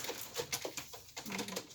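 Pet pigeons coo from their messy cages, soft low murmurs mixed with fluttering and rustling, heard close with no speech.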